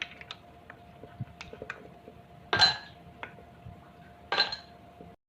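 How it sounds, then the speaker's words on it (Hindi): Ice cubes being lifted out of a dish while making malai ghewar, with two distinct glassy clinks standing out above light ticking and small scattered taps, close and fairly quiet, with no voices. "अब हम इसके जो बर्फ़ के क्यूब्स हैं इनको निकाल देंगे।"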